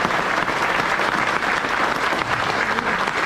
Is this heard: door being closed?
no